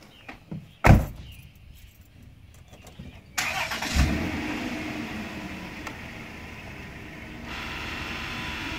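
A 2002 Dodge Caravan door slams shut with a single loud thud near the start, followed by quieter clunks and a steady low rumble inside the van.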